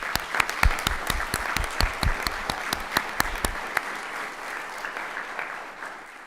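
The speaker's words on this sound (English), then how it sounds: "Can we give him a round of applause?" An audience at a city board of mayor and aldermen meeting claps for a Life Scout, crisp individual claps at first that thin out and fade to a soft murmur after about four seconds.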